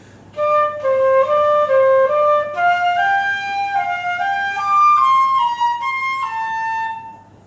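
A solo flute plays a simple stepwise melody from Havana, clear sustained notes in a steady rhythm, heard alone without talking.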